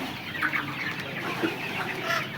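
Red and white laying hens cluck nearby in a flock, several short overlapping clucks and calls over a soft barnyard murmur.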